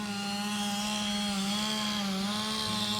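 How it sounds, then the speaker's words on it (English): New chainsaw running steadily outdoors near a building under construction, a sustained buzzing engine drone at a moderate distance, fairly faint and unbroken throughout. "He bought a new chainsaw, so you might hear that."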